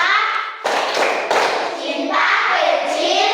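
Children in a Catholic religious education class clap together in a rhythmic clapping game, bursts of hand claps mixed with chanting young voices, loud and close in a classroom.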